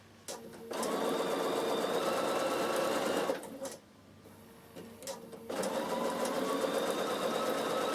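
Bernina sewing machine stitching in quick bursts, a rapid mechanical whir that runs, stops briefly twice, then resumes, close and clear.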